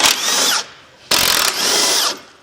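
A power tool unbolts a part from a Cadillac Escalade frame in two loud close bursts, each a high whirring spin lasting about half a second, separated by a brief pause.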